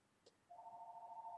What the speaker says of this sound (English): hang on, my phone is ringing